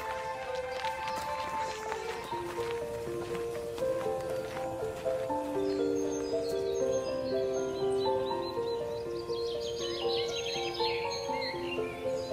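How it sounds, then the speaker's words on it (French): A great tit sings outdoors among other birds, with a dense chorus of chirps and whistled phrases layered across the scene at moderate level. No voices are heard. "Ça, c'est une mésange."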